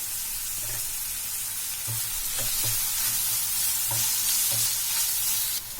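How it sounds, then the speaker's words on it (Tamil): Ginger garlic paste fries with onion and tomato in a hot pan, a steady sizzle under repeated scraping strokes of a stirring spoon at a close, even level. "தக்காளி லைட்டா வதங்கின பிறகு 1 ஸ்பூன் இஞ்சி பூண்டு பேஸ்ட் போட்டுக்கலாம்."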